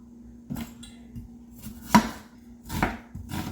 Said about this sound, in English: So however you want to chop your onions, I do like a medium dice.